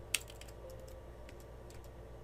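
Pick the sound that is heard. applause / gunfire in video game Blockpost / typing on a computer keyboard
typing on a computer keyboard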